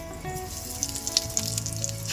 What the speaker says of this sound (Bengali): ফোড়ন দেবো গোটা জিরে